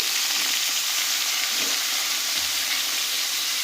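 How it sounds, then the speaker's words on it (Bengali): Small pieces of eggplant and potato fry in hot oil with green chilies for a pea-leaf stew, producing a loud, continuous, close-up sizzle that holds steady throughout with a few faint bumps of stirring. "এবার ছোট ছোট কেটে রাখা বেগুন আর আলু দিয়ে দিচ্ছি।"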